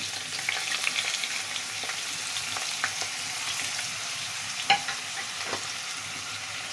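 Eggplant and potato pieces for kebabs are stirred in about two tablespoons of hot oil, giving a soft continuous sizzle broken by light scraping and clicking of the utensil, with one sharper knock near the end.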